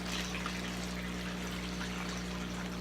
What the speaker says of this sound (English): you slowly pour the water in the bag